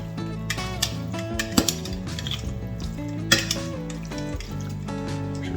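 Raw chicken pieces for garlic parmesan skewers are tossed with oil in a bowl, with wet squelches, clinks and knocks against the bowl at uneven intervals close to the listener, without speech.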